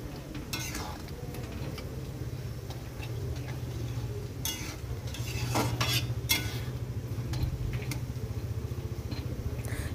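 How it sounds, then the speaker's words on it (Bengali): Ripe mango chutney with sugar being stirred in a pan, with a steady scraping and clinking of a utensil and a soft background sizzle of the cooking mixture throughout, no talk. "চিনি দেওয়ার পর মিশিয়ে নিলেই, একটু ফুটে উঠলেই আমের চাটনি রেডি"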